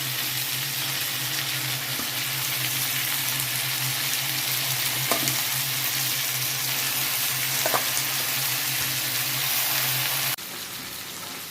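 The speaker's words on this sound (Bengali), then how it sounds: "এবার নাড়ানাড়ি চলছে পুঁই শাকটা ভালো করে" Malabar spinach and shrimp are stirred and fried in a pan, giving a steady, close sizzle with a few sharp utensil clinks against the pan and no talk.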